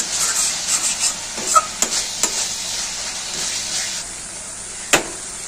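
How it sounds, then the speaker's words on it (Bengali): Spiced masala with a little water sautés and is stirred in a pan, a soft steady sizzle broken by a few sharp scrapes and clinks of the spoon against the pan. "অল্প একটু জল দিয়ে দেবো মশলার মধ্যে, ভালো করে কষিয়ে নেব।"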